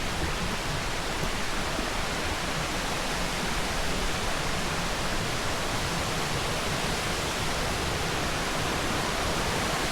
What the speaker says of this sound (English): Alright, so I want to see more of this waterfall.